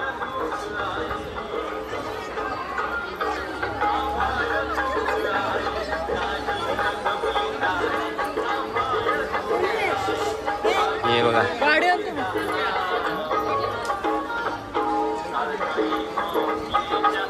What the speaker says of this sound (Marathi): खतरनाक गर्दी, एकदम बेकार गर्दी